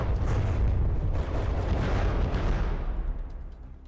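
Heavy weapons fire pounding a warship turret in From the Depths, a dense, continuous roar of booming impacts and blasts that stays loud throughout and eases slightly toward the end, with no voices.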